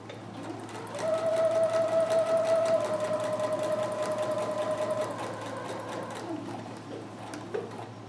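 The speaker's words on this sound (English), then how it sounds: "now we're sewing through all the fabrics" Sewing machine stitching through several layers of fabric on a Hawaiian aloha shirt, a steady close motor hum with a rapid needle patter that runs for several seconds before easing off.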